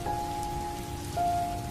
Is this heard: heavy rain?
yes